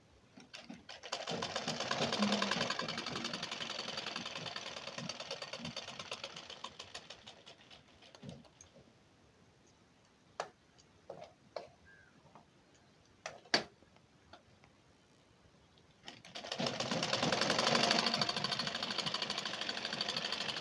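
A sewing machine runs a fast line of stitches fixing a button strip onto a plain blouse, then goes quiet apart from scattered clicks and handling taps before a second burst of rapid stitching, close up and without speech.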